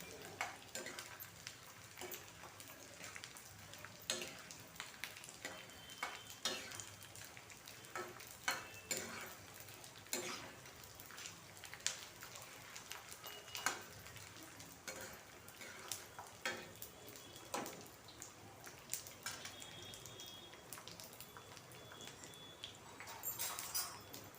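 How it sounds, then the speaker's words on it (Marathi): Edible gum (dink) roasting in hot ghee in a pan, with a faint continuous sizzle and frequent small scraping and stirring clicks heard up close, no voices. "इथे तूप गरम झालेलं आहे त्याच्यामध्ये मी डिंक घालते थोडं थोडं चांगलं भाजून घ्यायचं आहे"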